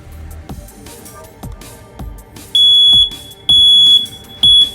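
Smoke detector in a two-bedroom apartment sounds during a battery test, giving three loud, steady high-pitched beeps near the end over a quiet room with faint thumps.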